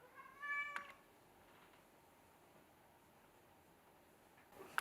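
A pet cat meows outside a locked door, a short clear meow near the start, then quiet room tone with a faint noise at the end.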